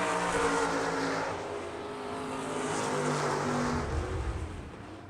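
Non-wing sprint cars roar around a dirt track at an ASCS Elite race at South Texas Race Ranch, a loud, sustained engine drone that swells and fades as the cars pass, with crowd-level ambience and no talk.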